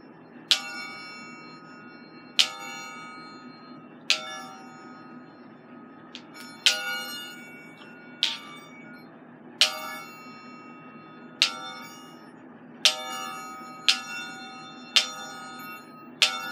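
Chinese exercise balls ring out like small bells, each sharp metallic chime decaying briefly, struck one at a time at a loose, uneven pace over a steady low hum.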